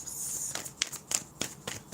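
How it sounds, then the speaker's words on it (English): Tarot cards being shuffled by hand, a quiet close series of soft riffling and tapping bursts with no talking. "So I'm just going to shuffle for 3 groups"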